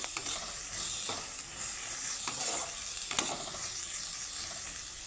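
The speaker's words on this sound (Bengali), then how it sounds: "এখন সবগুলো সবজি আমি নিজে কেটে ভেজে নেব সুন্দর করে" Chopped vegetables with green chilli sizzle in a hot pan, a constant close hiss broken by a few spatula scrapes and stirs, with no voices.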